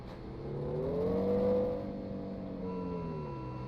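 A truck engine in the Truck And Logistics Simulator video game starts up, its tone swelling over the first second and a half before easing into a steady, even idle hum.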